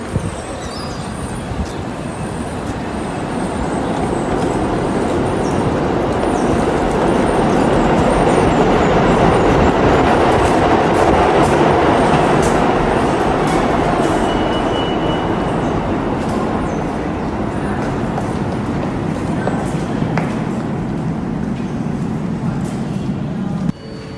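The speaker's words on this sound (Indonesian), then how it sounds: "sekarang kalian ada di salah satu stasiun subway" A New York City subway train rumbles loudly and steadily through a station, with continuous wheel and rail roar and occasional squeals, holding close and heavy for the whole stretch without talk.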